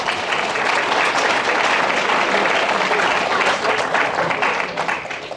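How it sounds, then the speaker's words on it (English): A room claps steadily for the JV and varsity Lady Mule track team at a Muleshoe High School athletic banquet, a full, sustained round of applause that eases slightly toward the end. "Let's give these ladies a round of applause"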